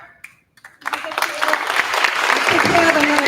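Audience applause at a 5th grade chorus spring concert for a world premiere piece, starting after a brief quiet moment and swelling into loud, sustained clapping that grows steadily fuller across the clip.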